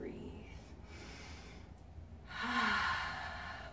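Deep yoga breaths, a soft airy inhale followed by a louder, fuller exhale, close and unhurried with a brief pause between them.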